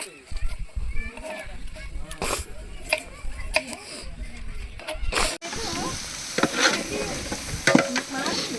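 Mutton curry stirred in a pot, repeated scraping and clattering strokes over a bubbling sizzle, fairly close, with some background voices and noise.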